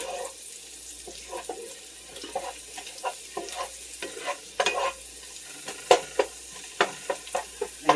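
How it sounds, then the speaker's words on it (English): Pressed garlic and onions fried in a soup pot and stirred with a spoon, a soft sizzle under quick scraping strokes that grow louder and more frequent toward the end. "To do that, I am going to use the garlic press and go ahead and give this a good stir."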